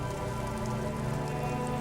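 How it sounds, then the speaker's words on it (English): Steady rain falls on a great city in a video game, a continuous even hiss with soft drips, close and unbroken, with no talk over it. "All around you, rain falls on the great city of Rivershaw."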